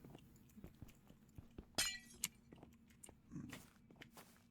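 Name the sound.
breaking a glass block in Minecraft video game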